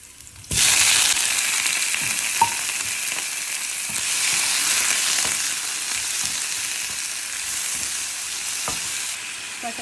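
A loud sizzle bursts up as chopped garlic and mushrooms go into a hot pan, then hot oil hisses and crackles steadily close by, with occasional spatula scrapes and no voices.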